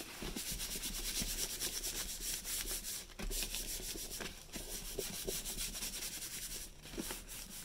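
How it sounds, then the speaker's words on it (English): Monoprint paper being burnished by hand, a steady close scratchy rubbing that continues throughout in quick repeated strokes, with one short pause near the middle. "And I'm going to burnish it again."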